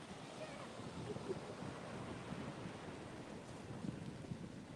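On a beach during surf fishing, steady wind buffets the microphone over the low, continuous wash of surf, faint and unbroken.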